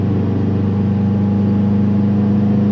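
A Subaru WRX engine bogging down while driving, heard from inside the car as a loud, steady, low droning hum with a constant tone and no revving, no voices over it.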